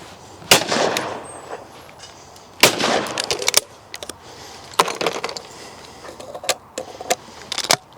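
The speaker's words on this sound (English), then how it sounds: "Now I'm going to shoot 5 pairs with the Browning." Browning 12 bore shotgun fired at clay targets outdoors, with sharp, loud reports arriving in pairs and single shots several times over eight seconds, each followed by a brief ringing decay.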